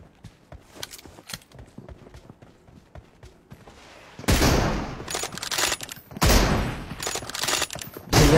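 M24 bolt-action rifle gunfire in the mobile battle game BGMI, faint shots and footsteps at first, then loud, sustained bursts of blasting gunfire that dominate the second half.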